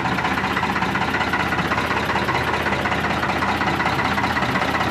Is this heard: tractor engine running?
yes